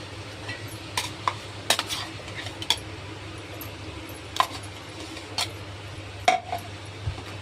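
Smashed boiled potatoes and mashed frozen peas being stirred into a simmering masala gravy in a pot, with scattered scraping and clinking of a spoon against the metal over a steady low hum, no talking.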